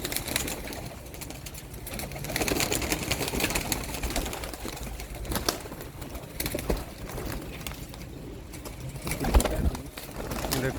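Sialkoti pigeons cooing in a loft, soft repeated coos with occasional wing flutters against steady background noise, no speech.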